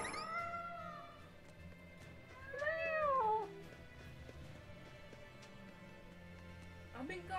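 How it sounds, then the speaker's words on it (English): A cat meows several times, rising and falling calls near and fairly clear, with a longer drawn-out meow in the middle and another brief one at the end over quiet background noise. "Hey, kitty."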